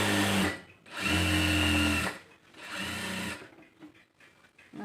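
A sewing machine stitches the side fitting line of a blouse in three loud, close motor bursts: two long runs and a shorter one, separated by brief pauses with no talking.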